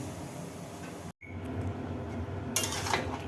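Bottle gourd goes into a pan of prawns while cooking, bringing soft metallic clatter and stirring scrapes, a brief pause, then a brighter sizzling scrape near the end, fairly faint throughout.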